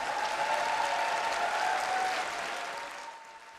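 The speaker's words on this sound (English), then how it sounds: "Applause and cheers echoed on the platform again and again." Applause and cheering from a Labour party conference crowd, a dense steady wash of clapping that holds strong and then slowly fades toward the end, with no speech over it.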